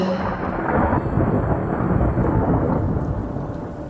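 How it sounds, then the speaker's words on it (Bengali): A heavy thunderstorm with big raindrops, a dense, loud, continuous rush of rain under rolling thunder, heard alone without voices. "চৈত্র মাসের পরিষ্কার আকাশ মেঘাচ্ছন্ন হয়ে বড় বড় ফোঁটায় বৃষ্টি নামল"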